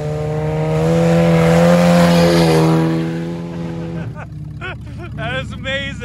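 A Pontiac car roars past in a race, its engine note swelling loudly and then fading away, followed by people talking excitedly over the lingering engine noise.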